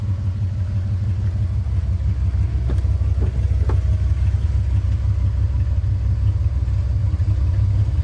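A Dodge car drives with its engine running, a steady low rumble heard from inside the vehicle, with a few faint knocks and no talking.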